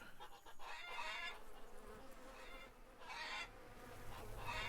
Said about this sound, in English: Bees produce honey and are very beneficial for your nearby garden.